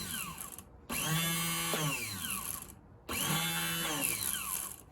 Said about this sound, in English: You can hear this one has some bearing noise in it, something going on, but it is turning over